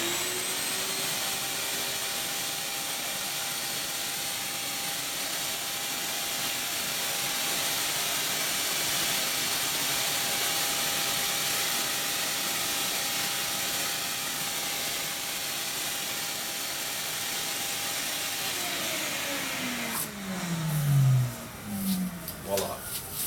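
A vacuum drone runs steadily while a car headrest foam is compressed, a loud, even whine with a faint tone, then shuts down near the end, its pitch sliding downward amid rustling plastic and handling noises.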